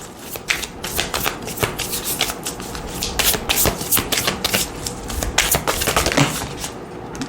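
An oversized deck of tarot cards being shuffled, a rapid run of crisp riffling and slapping bursts that repeats close up and fairly quietly throughout, with no voices.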